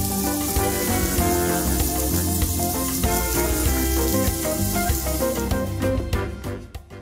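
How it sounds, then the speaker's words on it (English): Milkfish sisig frying on a hot sizzling plate: loud, dense, continuous sizzle and crackle throughout, heard alone without talk. "But this is my version of sizzling sisig."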